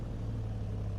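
A car engine idles slightly unevenly with a steady low hum and a faint pulsing throb, heard from inside the car, continuous and fairly quiet.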